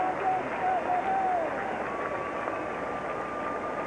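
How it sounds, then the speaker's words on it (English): Baseball stadium crowd at a Giants–Cardinals game gives a broad, distant roar of applause for Sean Dunston, a steady hiss of clapping and cheering with a whistle-like tone and faint voices drifting over it. "And some nice applause for Sean Dunston."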